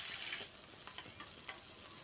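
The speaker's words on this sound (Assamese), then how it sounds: "তেলখিনি গৰম হৈ গৈছে, মাছ দুই পিচ দি দিছোঁ ভাজিবলৈ।" Two pieces of fish sizzle in hot oil in a pan, a bright continuous frying hiss with small crackling pops, close and moderately quiet.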